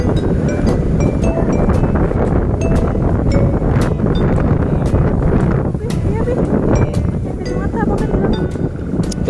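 Wind buffets the microphone outdoors on a Sunday morning street outing, making a loud, constant rumbling roar, with people talking underneath and a few clinks.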